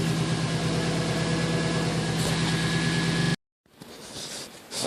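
A Nissan Armada engine (2004–2015 TA60) idles with a steady, even drone just after a fuel pump replacement and while the tank is nearly empty, then cuts out abruptly, followed by a brief silence and faint background noise.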